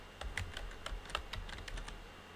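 Quick bursts of keystrokes on a computer keyboard, a dozen or so close, crisp clicks tapped in an uneven rhythm over a quiet room, with no one talking.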